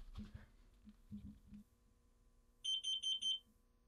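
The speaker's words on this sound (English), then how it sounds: "There's a carbon monoxide detector down here." A carbon monoxide detector in a house emits a quick burst of four sharp, high electronic beeps, near and clear, after a few faint bumps and shuffles in an otherwise quiet room.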